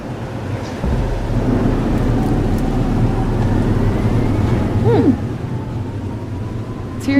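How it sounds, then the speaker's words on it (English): Thunderstorm in the video game Life is Strange: Double Exposure, with a steady roar of rain and low rumbling thunder throughout, a sharper crack near the start and a brief rising tone partway through. "But there wasn't a storm the day Sophie died"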